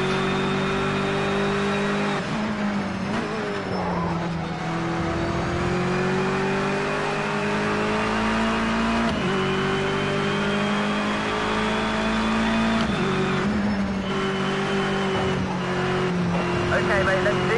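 Race cars roar around a track in the online racing game Project Cars 2, a loud continuous engine drone rising and falling with gear changes as other cars run close by, with someone talking over it.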